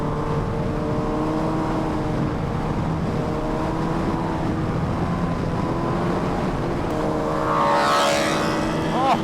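Kawasaki Ninja H2 and Yamaha R1M motorcycles on Pirelli tires ride together, producing a steady, loud engine drone with shifting tones, and a rising rev swells near the end while a voice talks over it.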